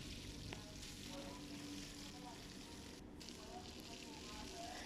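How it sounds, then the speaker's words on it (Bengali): Fish frying in hot oil in a frying pan, a continuous close crackling sizzle that runs the whole time at an even level, with a few soft clinks and stirring sounds. "এখন আমি দিয়ে দিচ্ছি মাছগুলো তেলের মধ্যে।"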